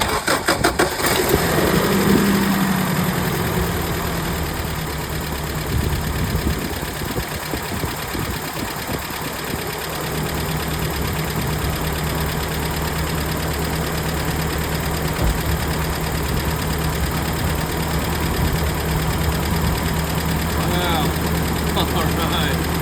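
A 1993 Toyota pickup with a 22RE engine cranks and catches after an air intake valve replacement, then settles into a steady, close-up idle that runs evenly for the rest of the clip.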